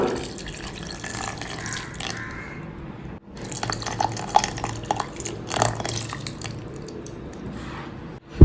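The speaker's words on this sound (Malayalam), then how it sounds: "ഇനി നമുക്ക് ഇതിലേക്ക് പാൽ ഒഴിച്ചു കൊടുക്കാം." Milk poured into a blender jar holding grated carrots, dates and cocoa powder for a carrot smoothie, giving a steady close liquid splash and gurgle with a short break partway through and a few faint drips, no speech.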